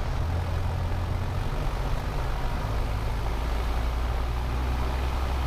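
Light aircraft engine run-up at 2000 rpm during pre-flight checks, a steady loud droning roar with a strong low hum that holds constant throughout, no speech.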